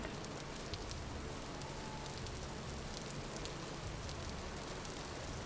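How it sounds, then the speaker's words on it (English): Rain falls in the video game Vintage Story, a steady, even hiss of raindrops with faint scattered patters throughout, quiet and unbroken, with no voices. "it's rainy here"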